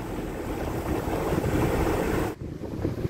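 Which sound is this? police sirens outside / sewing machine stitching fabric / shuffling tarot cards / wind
wind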